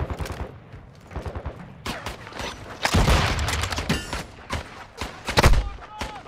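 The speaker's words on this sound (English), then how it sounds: "I'm taking fire." Incoming gunfire in a military video game: scattered shots and bursts, then heavier booming volleys and impacts, loud and close, with rapid clusters of rounds in short irregular waves.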